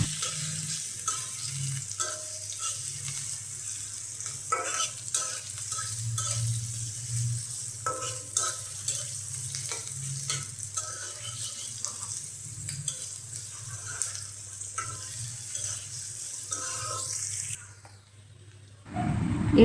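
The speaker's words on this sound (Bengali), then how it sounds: "এখন 1 কাপ পেঁয়াজ কুচি এবং 5-6টা কাঁচামরিচ মাঝখানে ফাটিয়ে দেওয়া হয়েছে, দিয়ে দিলাম।" Chopped onions and slit green chilies sizzle in hot oil while being stirred, a steady close crackle broken by repeated scrapes and knocks of a spoon against the pan, until the sound cuts off near the end.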